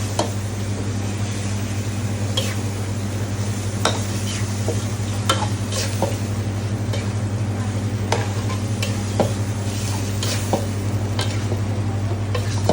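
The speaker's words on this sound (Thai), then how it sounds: "ก็คลุกเคล้าให้เข้ากันค่ะ" Kimchi fried rice stirred and tossed in a hot pan, a steady close sizzle with scattered light scrapes and taps of the utensil against the pan, no talking.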